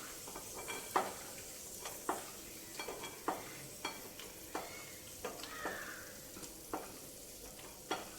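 Cashews and peanuts frying in a pan of oil, a soft steady sizzle punctuated by regular sharp clicks and scrapes of a spoon stirring against the metal, with no talking.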